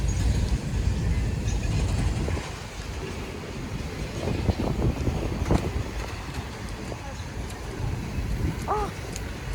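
A freight manifest train of old cars, including hopper cars, rolls past outdoors with a steady rumble and scattered clanks, heard under wind noise and faint voices.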